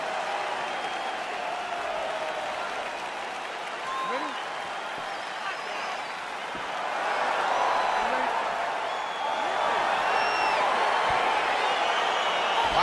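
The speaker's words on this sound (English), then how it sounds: "Crowd getting excited as this fight gets underway" A crowd in the UFC 4 video game cheers and applauds as a fight gets underway, a steady wash of noise that swells partway through, with commentary talking over it.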